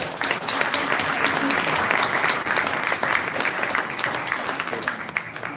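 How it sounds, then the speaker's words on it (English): A room full of people at a city board meeting applauds steadily, dense clapping holding at an even level for several seconds before easing slightly. "Let's give him a round of applause."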